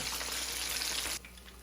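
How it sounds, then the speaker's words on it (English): Hot oil sizzles on twice-fried chicken just pulled from a cast iron skillet, a close, steady crackling hiss that drops abruptly to a quieter simmer near the end. "you can see how that oil is still sizzling on that chicken"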